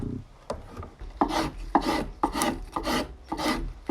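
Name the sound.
spokeshave rounding a wooden tool handle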